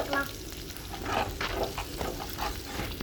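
Onions sautéing in a pan for raita, a continuous crackling sizzle with soft stirring scrapes throughout, close and steady without speech.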